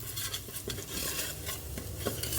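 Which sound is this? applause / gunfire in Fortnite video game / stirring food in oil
stirring food in oil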